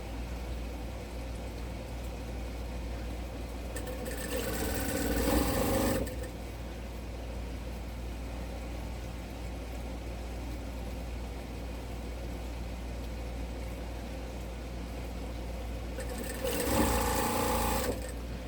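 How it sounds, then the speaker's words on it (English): A sewing machine stitching quilt blocks onto the ends of fabric strips, running in two short steady bursts of fast, even needle whirring, loud and close, with a quiet hum in between. "we'll sew a block on the end of each strip"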